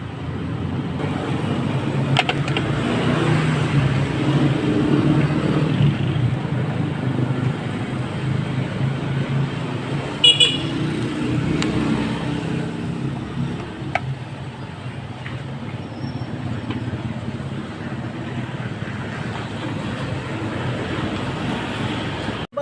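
A motorcycle engine idles and runs with a steady low rumble, accompanied by faint rattling and background noise, without any talking.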